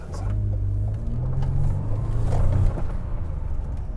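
A Toyota Sienna minivan's engine rumbling low and steadily as it gains speed, heard from inside the cabin.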